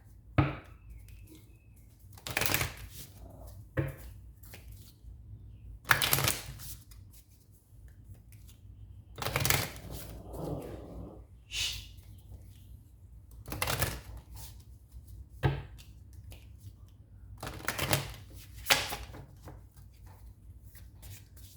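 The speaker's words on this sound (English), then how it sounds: "I'm going to pull a couple of more cards for you from the Alice in Wonderland Oracle deck" Oracle cards from an Alice in Wonderland deck being shuffled and pulled, giving a run of crisp, close riffling and slapping bursts that return every couple of seconds with quiet gaps between them.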